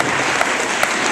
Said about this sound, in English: please step forward so you can receive a round of applause.